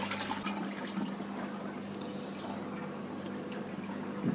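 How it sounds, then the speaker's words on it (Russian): Eheim Aquaball 60 aquarium filter running with its outlet submerged several centimetres below the surface, giving a steady, close bubbling and trickling wash of aerated water with faint drips, no voices. "давайте просто попробуем, как он аэрирует воду"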